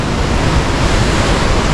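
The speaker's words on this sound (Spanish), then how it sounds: "wow, mirad qué cascada." Loud, steady broadband roar of a waterfall on a river swollen by torrential rains in Ronda, Spain, a dense rushing wash of water heard close with no talking.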